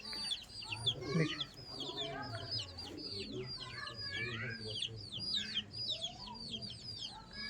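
Tournament pigeons coo low and soft beneath a busy layer of chirping bird calls that runs continuously, with a person faintly talking in the background.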